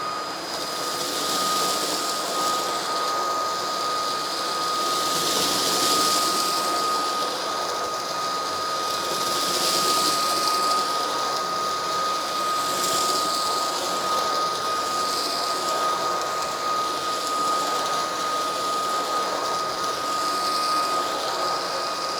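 Eureka RapidClean cordless vacuum cleaner running steadily and loudly on its own, a continuous motor whine with a fixed high tone and a broad airy hiss that swells and eases slightly throughout.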